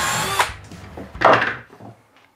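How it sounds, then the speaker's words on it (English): A power drill bores into an old wooden coffee table in two short, loud bursts, with quieter handling noise between them and a fading tail at the end. "Or should I just drill a little more?"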